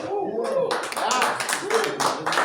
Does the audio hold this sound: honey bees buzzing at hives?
no